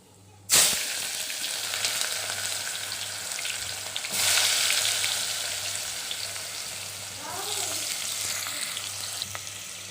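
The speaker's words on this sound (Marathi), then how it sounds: "कांदा छान परतून घ्यायचा आहे, गोल्डन रंग येऊस तोपर्यंत" Three large chopped onions with curry leaves and a pinch of asafoetida hit hot oil for Kolhapuri misal, bursting into a sudden loud sizzle, then frying steadily with occasional stirring.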